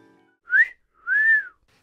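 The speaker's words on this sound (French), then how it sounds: "c'est pas moi qui viens de siffler" A person whistles two clear notes during an outdoor town walk: a short rising chirp, then a longer held tone that bends down at the end. Both are crisp and close, with quiet gaps between them.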